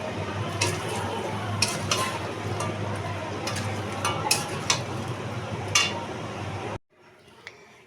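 Chicken is stir-fried in a pan with cashews, raisins and yogurt: a spoon clinks and scrapes against the pan over a soft sizzle before the sound cuts off abruptly.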